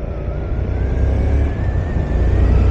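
A car accelerates on a road to overtake, its engine hum rising steadily and holding loud and close from inside the vehicle, with no talk.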